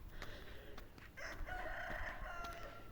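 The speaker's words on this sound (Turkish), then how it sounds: "her zaman her yerde horoz sesi başka oluyor" A rooster crows once in a long, drawn-out call after a few short clucks, fairly close against faint outdoor background.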